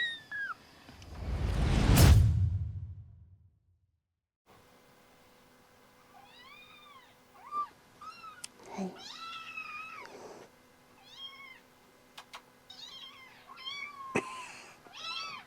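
Several young kittens, over five weeks old, give repeated high, thin meows in short bursts, some overlapping, close by in a quiet indoor space after a loud whooshing rush at the start.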